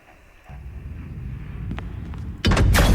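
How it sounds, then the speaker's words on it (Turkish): A door opens in the horror game Eaters, a low rumble and a few knocks building into a loud, heavy grinding burst at the end. "Neyse açıyorum kapıyı."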